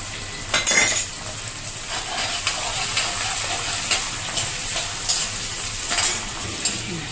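Green chillies and onion frying in a pan, a steady close sizzle with a spoon stirring and clinking against the metal now and then, no talking.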